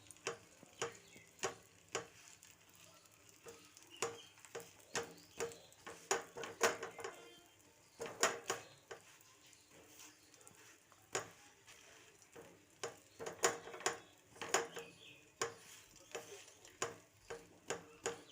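Leftover roti fries in a pan with a faint sizzle under repeated sharp taps and scrapes of a utensil, irregular clicks through the whole stretch, quiet and close, no talk.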